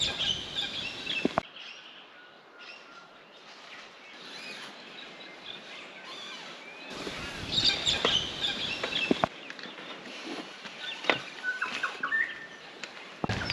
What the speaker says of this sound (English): We awoke to a choir of beautiful early morning bird song